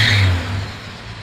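A warmed-up Toyota FJ60 Land Cruiser engine, long left sitting and puffing a little blue smoke, runs steadily nearby with a low, even rumble.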